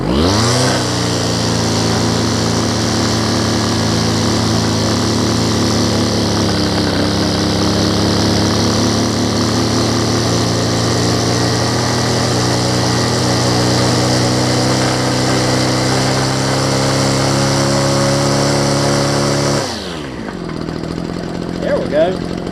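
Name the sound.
string trimmer engine running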